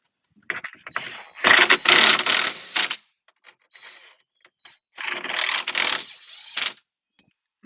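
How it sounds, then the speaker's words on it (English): Hand ratchet snugging bolts on a Jeep Wrangler JL, heard as close, clicking bursts of a few seconds each, separated by pauses with faint handling noises. "We're going to finish it off with the hand ratchet."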